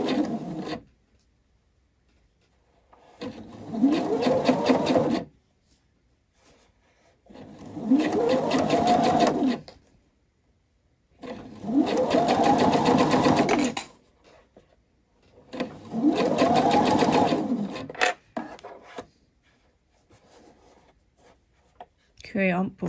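Domestic sewing machine stitching around a knit neckline with a stretchy rib band, running in four steady bursts of a few seconds each with short pauses in between, close and fairly loud.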